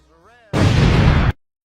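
Video game bombing explosion bursts out as a single loud, sustained roar lasting under a second, right after a voice speaks briefly.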